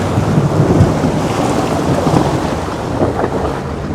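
Strong, fast-flowing river water at Dhikala in Jim Corbett, a loud, close, continuous rushing roar with churning surges and no voices.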